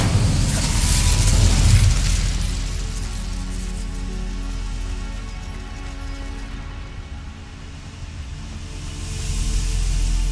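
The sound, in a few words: Incendio fire spell in Hogwarts Legacy video game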